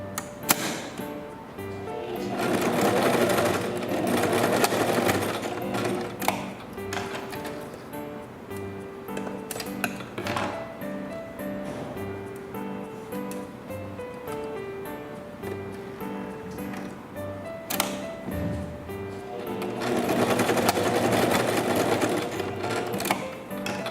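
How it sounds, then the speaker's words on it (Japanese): A sewing machine stitches fabric for a dog apron skirt in short bursts: rapid mechanical whirring runs start and stop several times, with pauses and light handling noises between them, close by and with no talk. "ちょっとだけ縫って、また次飛んでちょっとだけ縫う っていう感じで縫い代1センチで縫ってください"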